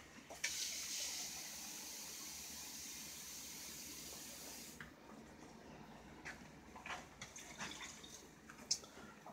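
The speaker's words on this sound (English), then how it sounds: "then we're going to add 4 cups of water." Four cups of water pour into a pot for homemade jelly, a steady splashing gush for several seconds that stops, followed by faint clinks and small kitchen knocks.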